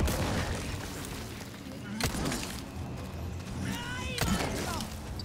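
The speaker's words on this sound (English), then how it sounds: "Let's try another grenade." Grenade blasts in Resident Evil 4 Remake, two sharp booming bursts a couple of seconds apart over a busy game soundscape, with people talking throughout.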